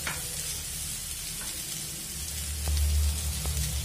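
Turmeric, cumin and coriander powders frying in a pan for a Bengali spinach ghonto, a steady close sizzle with a few soft stirring clinks and a louder scrape near the end.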